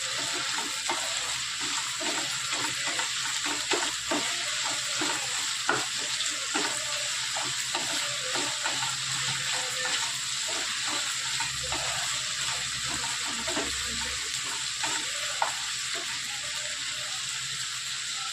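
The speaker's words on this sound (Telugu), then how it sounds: "ఈ బ్రౌన్ కలర్ వచ్చేంత వరకు మనం ఫ్రై చేసుకోవాలి." Semiya vermicelli frying in a pan until brown, a steady close sizzle with soft crackles and occasional stirring scrapes running throughout, no talking.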